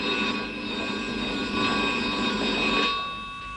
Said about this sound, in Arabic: التليفون انسبكتور.